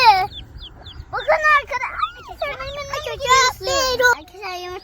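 Chickens cluck and call close by in a run of bright, warbling squawks, with a voice and light background noise mixed in.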